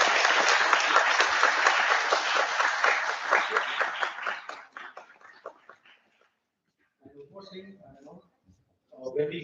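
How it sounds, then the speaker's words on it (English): Conference audience applauding the organizing committee at an international power and energy conference: loud, dense clapping for about five seconds that thins and fades out, followed by a pause and then someone speaking. "Can you please give the big round of applause?"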